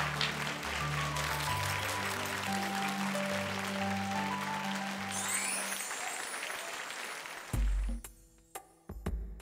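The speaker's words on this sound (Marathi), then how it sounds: "टाळ्या" Studio audience applause on a Marathi TV serial, a dense wash of clapping under a music cue that thins out and gives way to sparse sounds near the end.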